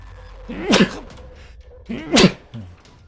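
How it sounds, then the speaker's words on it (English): Two loud, sharp sneezes up close, about a second and a half apart, the second followed by a brief voiced sound. "It was a very good sneeze."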